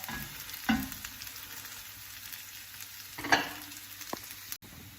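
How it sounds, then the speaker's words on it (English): Hashbrowns fry in a pan with a soft, continuous sizzle, broken by a few brief clinks or scrapes, heard close and fairly quiet with no talking. "we're just going to cook them for about another 4 to 5 minutes on the other side as well"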